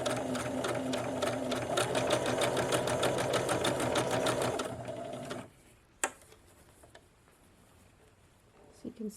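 A Huskystar 224 sewing machine stitches a wide zigzag at a rapid, steady mechanical chatter for about five seconds, then stops abruptly, leaving a quiet room with a few faint clicks and handling noises.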